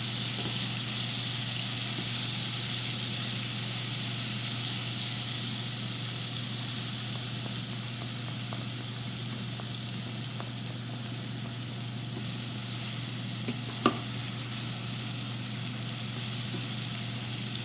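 Onions sizzle and fry in a pan for chicken liver and heart adobo, a loud, steady crackling hiss lasting throughout, with one brief clink near the end.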